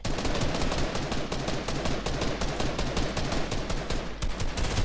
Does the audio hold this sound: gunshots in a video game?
yes